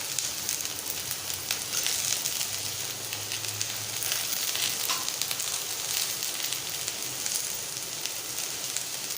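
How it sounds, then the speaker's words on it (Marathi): Okra and tomato fry in a pan, a dense, even sizzle and crackle that holds steady and close throughout, with faint stirring and no talk. "आपल्याला छान परतवून घ्यायचं आहे।"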